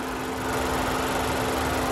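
A 2017 Honda Civic EX-T's 1.5-liter turbo engine runs at a steady idle under the open hood, a close, even mechanical hum with a constant whine and no voices.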